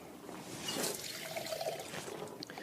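Liquid poured into a gravy pot in an old-fashioned kitchen, a soft steady trickle and splash lasting a few seconds, close by and fairly quiet with faint room noise.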